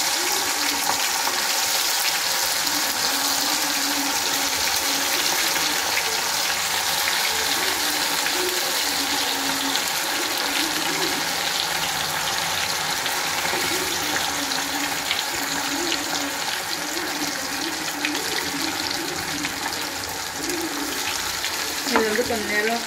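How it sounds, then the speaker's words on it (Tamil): Food drops into hot oil in a pan, sending up a dense, constant crackling sizzle that fills the scene at close range, with a voice talking faintly beneath the frying. "இப்போ வந்து எண்ணெயில் இது போட்டு வறுத்து எடுத்துக்கலாமா"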